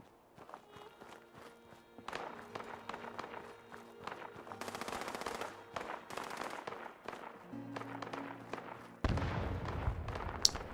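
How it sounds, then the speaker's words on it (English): Distant gunfire rattles faintly in the video game Fallout 76 over footsteps moving through the environment. Scattered quiet shots and short bursts build somewhat louder toward the end. "I'm already hearing shooting, so that's a good sign."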